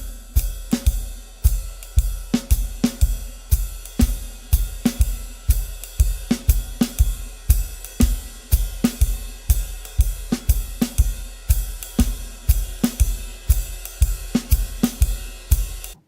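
A jazz drum beat played on ride cymbal, hi-hat and bass drum, with crisp, evenly spaced strokes in a steady swinging rhythm, close and loud, with no talking.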